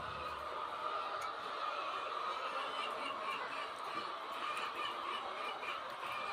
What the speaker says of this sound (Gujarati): બે કુકડા છે